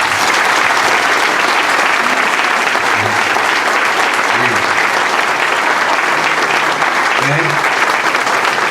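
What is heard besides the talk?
audience round of applause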